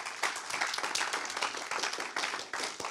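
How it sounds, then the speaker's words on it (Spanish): A burst of applause for the Lord at a church service, dense clapping from a group at moderate volume, continuing for a few seconds without a break. "Dele fuerte aplauso al Señor, hermano. Pero fuerte que se escuche."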